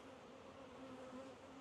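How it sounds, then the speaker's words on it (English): Honeybees from a thriving hive fly around its entrance, a steady, close insect buzz with a low hum that drones on evenly throughout without pause. "Because like I turn around, yeah, there's like 30 bees again."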